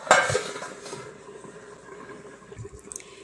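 A lid is set on a clay pot of Kerala-style sardine curry cooked with ground coconut. One sharp clink comes first, then quiet low bubbling with a few light taps.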